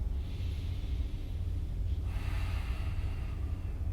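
Slow, deep breathing during a lying-down yoga session: a soft airy inhale leads into a stronger, rushing exhale about halfway through, close and fairly quiet over a low background rumble.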